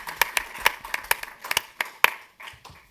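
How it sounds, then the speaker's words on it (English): Sparse hand claps from a few people follow a speaker, Carlile, at a discussion event, with scattered, uneven claps that quickly thin out over a quiet background. "Round of applause for Carlile."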